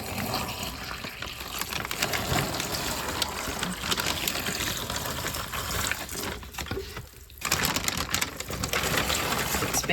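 Water poured from above onto a compressed soil brick for seed starting, soaking into holes in its center, a steady close splashing trickle that runs almost without pause, dipping briefly near the end.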